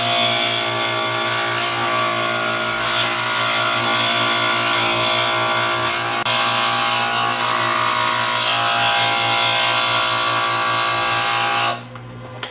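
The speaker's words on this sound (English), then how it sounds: "And we're ready to turn on the grinder and go about this task." A wet glass grinder with a fine grinding head smooths the rough edges of a glass pendant, giving a steady loud motor whine with constant tonal hum and a faint gritty scraping, cutting off abruptly near the end.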